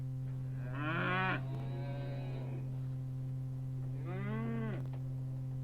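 Two drawn-out moos from a young calf, a few seconds apart, over a steady low electrical hum.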